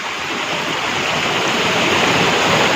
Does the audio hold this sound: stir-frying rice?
no